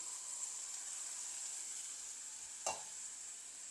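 Ponnaganni greens wilt in a hot pan for a jackfruit seed poriyal, a faint, even hiss of frying with a single brief scrape or clatter from stirring midway.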